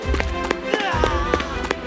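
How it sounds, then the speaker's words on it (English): Quick footsteps echo through stone castle corridors in an evenly spaced run of taps, sounding close and distinct with a voice faintly underneath. "her footsteps echoing into the emptiness."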